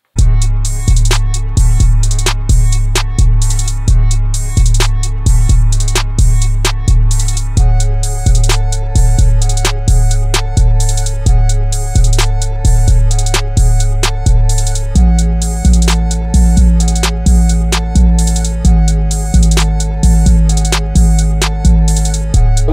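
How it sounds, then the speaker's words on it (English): A reversed guitar loop plays inside a full beat with heavy kick drums and sharp percussion hits in a steady repeating pattern. The swelling backward tones shift pitch partway through, loud and up front. "What you're hearing that sound is just a guitar little loop that I had, and I just reversed it."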